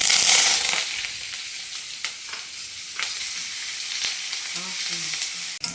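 Steady sizzling of onions, bay leaf and spices frying in a pan for mutton kurma, a continuous hiss with occasional stirring scrapes and clinks, close and fairly loud.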